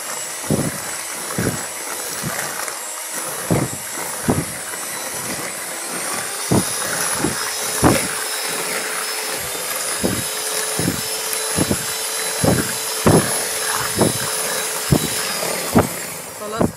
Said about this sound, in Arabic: ضربت كل المكونات السايله معايا